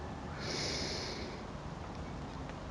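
One soft, airy breath is exhaled through the nose during a relaxation exercise for stress and headaches, close and brief, then fades into quiet breathing noise.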